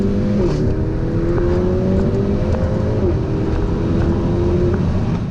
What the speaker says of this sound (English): Let's do the 30 to 70 sprint and find out.